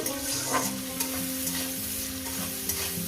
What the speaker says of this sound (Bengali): পেঁয়াজটাকে মিনিমাম দু মিনিট আমি ভেজে নেব